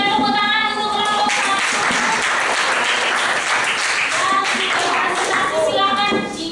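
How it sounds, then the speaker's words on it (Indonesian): Classroom audience of students clapping for group 1 after a cultural diversity presentation, a lively patter of many hands lasting several seconds, with children's voices chattering over it before the clapping fades at the end. "berikan tepuk tangan untuk kelompok"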